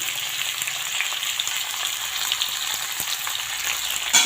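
Jackfruit seeds and ridge gourd frying in a pan with salt and turmeric, a steady close sizzle that crackles on without pause.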